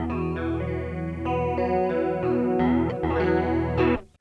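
Electric guitar through a vintage Boss CE-1 style chorus, rich strummed chords and melodic lines with a thick, warbling chorus shimmer, played alone and fairly loud before cutting off at the end.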